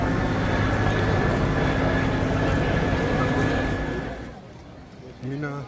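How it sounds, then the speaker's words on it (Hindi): Crowds and trains at Mina railway station No. 2 during Hajj make a loud, steady rumble of moving rail traffic and massed people that fades toward the end, where a voice briefly speaks. "Meena railway station number 2।"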